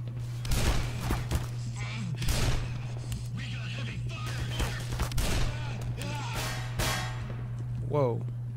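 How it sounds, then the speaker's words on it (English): Gunfire in Black Mesa cracks out in repeated sharp shots spread through the clip, with a steady electronic hum underneath and speech mixed in. "Shooting at me still."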